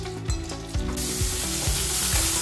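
Fish oil fritters sizzle steadily in hot oil in a pan, a loud, dense frying hiss with a few clinks of a utensil against the pan early on.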